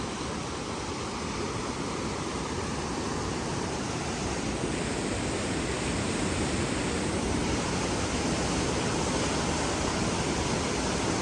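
Swollen river water rushing past a washed-out road near a resort, a steady, dense, loud roar that stays constant throughout, with no voices.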